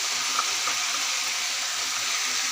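Mixed vegetables frying in a pan give off a steady, close, bright sizzle throughout, with a couple of small pops and no talking.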